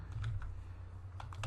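Soft typing of commands on a computer keyboard, a few scattered keystrokes followed by a quick cluster, faint and close over a low background hum.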